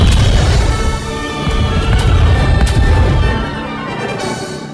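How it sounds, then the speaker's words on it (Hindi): Cartoon fireworks boom and crackle in a loud sustained barrage, sharp blasts rising over a dense rumbling wash with no voices. "लेकिन ये पटाखे जला कौन रहा है और कहाँ से?"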